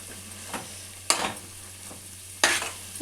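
Chili powder fries in a pan for a tamarind fish curry, a low sizzle broken by loud scraping stirs from a spoon at about one-second intervals, close by with no talking.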